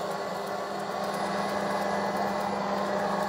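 A Shark AV2501S or ILIFE V3s Pro robot vacuum hums with a steady, even motor whir close by, unbroken for the whole stretch.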